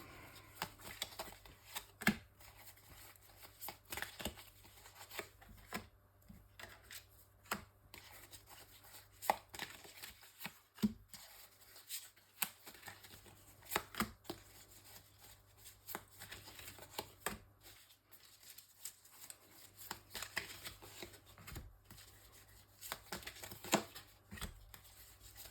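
Oracle cards being shuffled by hand for a nine-card reading, soft repeated flicking and riffling taps in an uneven rhythm, close and fairly quiet, without talk.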